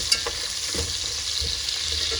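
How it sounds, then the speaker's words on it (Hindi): Cumin, garam masala and a small chopped onion fry in a pan with a continuous, close, even sizzle, broken by a few faint stirring clicks. "जीरा डाला है और एक प्याज डाला है छोटा सा।"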